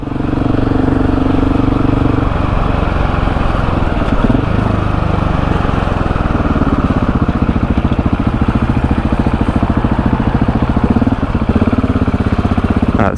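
A supermoto motorcycle engine drones loud and close throughout, a steady buzzing thrum with slight shifts in pitch as the revs change.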